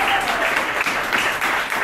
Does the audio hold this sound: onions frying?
no